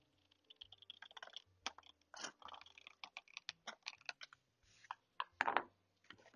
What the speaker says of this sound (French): je vais découper le coin